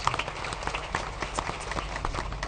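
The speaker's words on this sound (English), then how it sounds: "give another round of applause to our leaders, especially His Excellency the President" An audience at the National Prayer Breakfast at Safari Park in Nairobi applauding its leaders, a sustained patter of many hands clapping at close to moderate distance, steady and fairly dense throughout.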